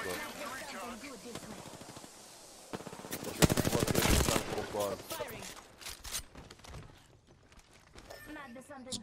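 Automatic gunfire in Apex Legends, a rapid rattling burst that peaks loud in the middle amid game effects and radio-style callouts, then tapers into scattered shots and a talking voice.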